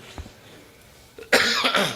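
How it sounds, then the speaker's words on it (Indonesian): A single harsh cough, loud and close, after a brief quiet lead-in with faint small sounds. "Nah kayak batuk barusan,"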